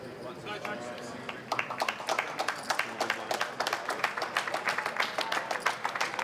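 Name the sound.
audience applause at poker tournament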